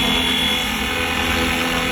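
A remote-controlled model helicopter hovers and flies close by, its rotor and motor giving a loud, steady high-pitched whine and buzz that holds without a break.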